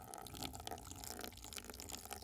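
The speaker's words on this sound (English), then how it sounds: "This is a pour water sound effect that I added onto the fish." Water is poured as an added effect over food footage of a fish dish, giving a steady, faint, hissing splash that runs evenly for a couple of seconds.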